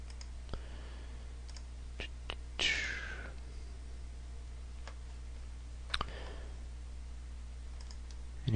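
A computer mouse clicking during iPod music file recovery on a computer: a few sparse, faint, sharp clicks spread apart over a steady low hum, with no talk.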